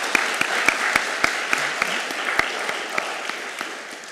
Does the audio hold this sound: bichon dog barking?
no